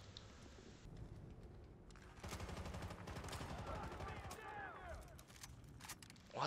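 Rapid light-machine-gun bursts ring out in the video game Battlefield: Bad Company 2, a dense rattling stream of shots that swells midway among other game effects, with a voice talking faintly in places.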